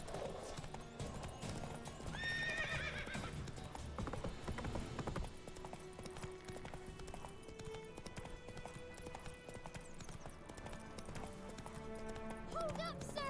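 Horse hooves clip-clop at a run in The Witcher 3, with neighs and whinnies over the rhythmic galloping; game voices and music play in the background.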